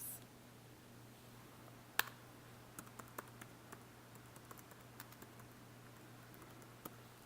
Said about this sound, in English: we're typing in certified organic all